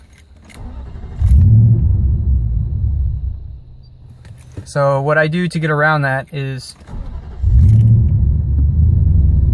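A pickup truck engine turns over and catches, rumbling low and rising in revs with a little gas, with someone talking over it in the middle.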